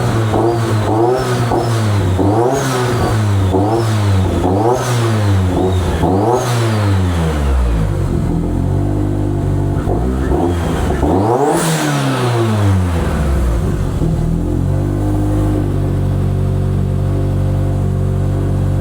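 Ford Focus RS engine running rich, revved repeatedly with rising and falling engine tones, then held at a steadier higher idle, loud and close with no talking.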